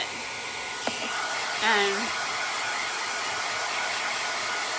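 Hair dryer blowing on white paint on a canvas, a constant loud whooshing roar throughout, with a brief click and a short tonal wobble near the start and a single word spoken under it.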